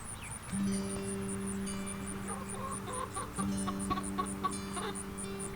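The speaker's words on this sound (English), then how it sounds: "And then here comes Dapper Dan, our blue Cochin rooster, right back there." A blue Cochin rooster and chickens on a farm cluck and chatter nearby in a steady stream, with short rising calls and a constant hum underneath.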